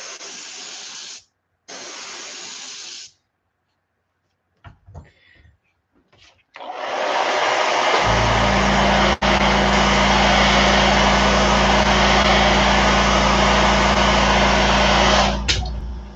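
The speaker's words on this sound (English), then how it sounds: "I'm just doing a quick hair dry on it to keep it from smearing." A hair dryer heat-setting fresh paint on a crappie swimbait lure. After a few short hissing bursts and clicks, the dryer runs as a loud, steady, close whoosh with a low motor drone for about ten seconds, then cuts off.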